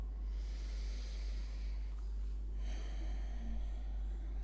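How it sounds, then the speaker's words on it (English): Deep breaths at the close of a meditation, heard as soft, slow airy exhales near the microphone over a low steady hum, with no talking. "Taking our final deep breaths."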